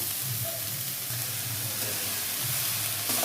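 Leafy greens added to a pan of spice paste with turmeric and green chilli fry with a steady, moderate sizzle and hiss, plus a low hum underneath, over a few seconds without talk.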